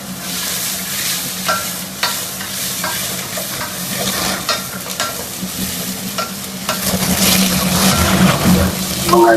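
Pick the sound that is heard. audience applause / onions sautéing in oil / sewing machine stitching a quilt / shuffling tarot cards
onions sautéing in oil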